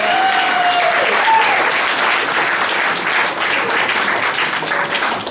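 Wedding reception guests applaud Uncle in a loud, dense, steady round of clapping that fills the whole stretch with little variation.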